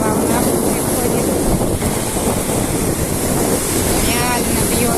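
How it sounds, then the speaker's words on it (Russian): Strong sea waves pound the shore at Gagra on a windy evening, a loud, continuous roar of surf mixed with heavy wind buffeting the microphone. "Волна прям сильно бьет порывами. Очень сильная волна приходит."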